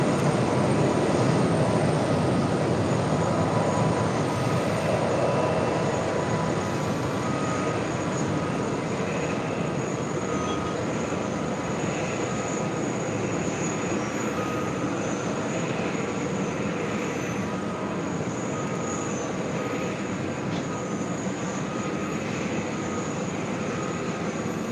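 A JetBlue Embraer E190AR jet taxiing at JFK, a continuous broad engine roar with a high whine on top, steady and fairly close, easing slightly in level over the stretch with no voices.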